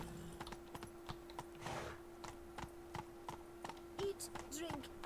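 Hooves of Geralt's horse Roach in The Witcher 3, a quiet rhythmic clip-clop of steps at walking pace, with a faint voice briefly heard alongside.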